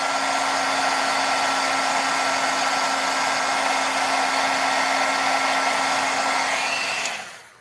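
A handheld heat tool warms foiling gel on a craft project, giving a steady, loud blowing whir with a faint tonal hum that runs alone without a break, then shuts off abruptly near the end.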